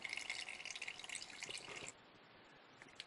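Engine oil drains from a Honda CRF250L motorcycle during an oil change, a close trickle and patter of liquid that stops abruptly partway, leaving a few faint drips.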